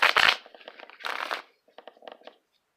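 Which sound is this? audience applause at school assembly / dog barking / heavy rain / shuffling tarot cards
shuffling tarot cards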